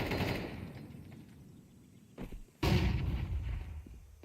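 Grenades being thrown in a Counter-Strike 2 match: a string of muffled thumping blasts, then a louder, sharper explosion about two-thirds through, followed by a lingering rumble, with no voices.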